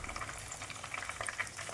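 Fish pakoda coated in rice flour and gram flour batter fries in hot oil, a soft, brief, steady crackling sizzle with light bubbling, heard alone and fairly faint.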